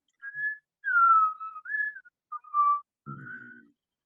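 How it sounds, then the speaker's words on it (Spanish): Someone whistles a short melodic tune in a few separate phrases, clear and close, with a brief low hum near the end. "Silbas muy bien."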